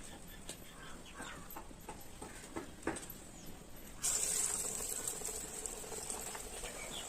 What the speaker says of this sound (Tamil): எண்ணெயில் போடும்போது அப்படியே தட்டி உள்ள போட்டுக்கலாம்